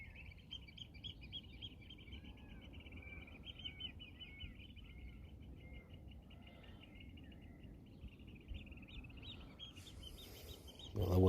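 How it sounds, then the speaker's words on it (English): Faint, busy chirping of small birds in the distance at a carp fishing lake, Pettitts Lake near Norton Disney, a constant twittering chorus, ending in a brief louder rustle. "you hear the racket of them little birds chirping away"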